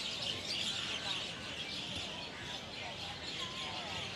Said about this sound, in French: Plein d'oiseaux aussi.